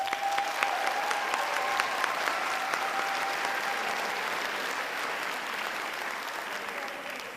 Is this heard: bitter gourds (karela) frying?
no